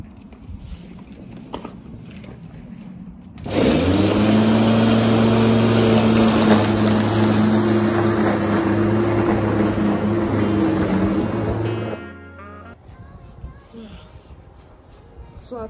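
A lawnmower runs loud and close while mowing a garden, a steady engine drone lasting roughly eight seconds, with quieter background sound and some talking before and after it.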